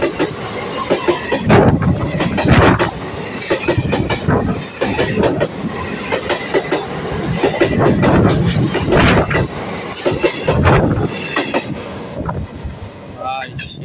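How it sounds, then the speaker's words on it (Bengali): A passenger train comes in from the hill direction and rolls toward Sealdah, close and loud, with a heavy rumbling roar and rhythmic clattering of wheels over rail joints that swells and holds throughout. "এখন দেখুন একটা ট্রেন আসছে এই দিক থেকে, ঠিক আছে, পাহাড়ের দিক থেকে এখন যাবে শিয়ালদার দিকে"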